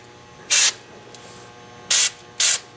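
Three short, loud hissing bursts of spray paint lay a light coat of 1K paint on a car fender, separated by pauses, close and with no talk.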